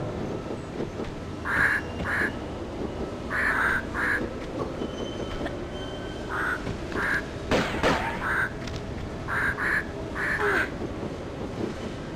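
Bird calls in the video game Tomb Raider 2 Remastered, short paired squawking chirps repeating in clusters over a steady low rumbling ambience, moderately faint and somewhat distant.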